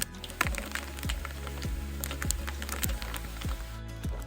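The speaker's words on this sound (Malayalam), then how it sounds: "കടുക് പൊട്ടിയതിന് ശേഷം" Crackling sizzle of mustard seeds popping in hot oil, with sharp little bursts scattered over a steady fry and a utensil scraping the pan.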